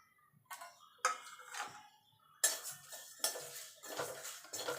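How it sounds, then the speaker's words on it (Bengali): Whole fennel, cumin, panch phoron and dried chillies are stirred in a dry pan, a spoon scraping and clinking against metal in several distinct rattling bursts with quiet gaps between, close and with no talking. "এবার গ্যাসটা ধরিয়ে শুকনো খোলায় এটাকে ভেজে নেব।"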